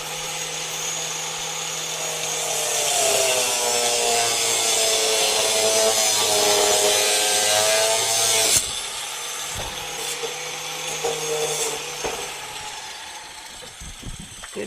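A power tool cuts metal for a shed gate, its whining, grinding cut running steadily for several seconds before stopping abruptly, followed by a few clanks and lighter rattles nearby.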